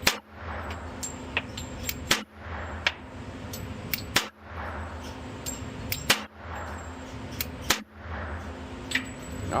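Shots from a CZ 97 B .45 Auto pistol firing mixed ammunition, five sharp reports spaced about two seconds apart, each a loud broadband crack with a short ring, over steady outdoor background noise.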